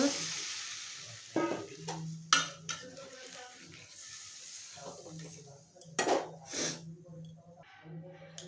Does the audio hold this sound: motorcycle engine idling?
no